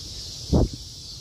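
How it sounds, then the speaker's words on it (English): Cicadas drone outdoors near water on a late-August morning in Chicago: a steady, high, continuous buzz with one short low thump partway through and no voices. "Listen to the cicadas."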